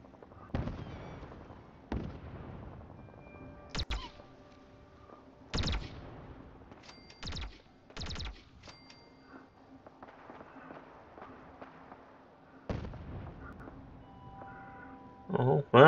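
Sniper rifle shots ring out in the video game Fallout 4, about seven sharp, loud cracks spaced a second or two apart with quieter game sounds between, and a voice talks at times.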